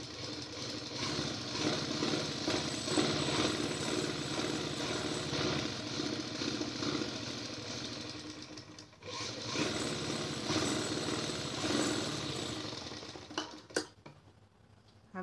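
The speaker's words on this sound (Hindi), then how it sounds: "यहाँ पर भी हम एक पैर की सिलाई लगाएंगे।" A sewing machine stitches a salwar, a steady fast mechanical whirr and clatter running for most of the stretch, briefly pausing near the middle before resuming, then stopping with a few clicks at the end.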